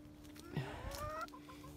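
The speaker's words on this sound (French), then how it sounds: "j'aime beaucoup ce coq" A rooster at a poultry breeding farm gives a short, close cluck that bends upward, fairly quiet against low background hum.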